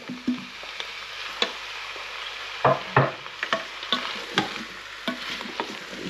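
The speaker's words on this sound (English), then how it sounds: "I'm going to give it a quick stir around. Put in the apples and the potatoes." Pork and cider stew with apples and potatoes stirred in a pot, with soft sizzling under a series of short scraping and knocking strokes from the spoon at an uneven pace.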